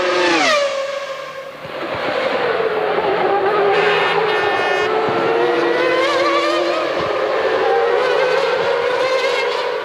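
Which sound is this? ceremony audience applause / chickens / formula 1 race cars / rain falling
formula 1 race cars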